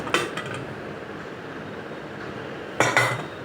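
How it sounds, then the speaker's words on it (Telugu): A pressure cooker lid being opened after cooking peanuts for tomato chutney: two sharp metallic clanks, one right at the start and another near the end, with quiet kitchen hiss in between. "ఇప్పుడు కుక్కర్ మూత తీసి చూద్దాం."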